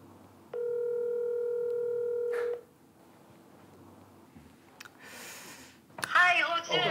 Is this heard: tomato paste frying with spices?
no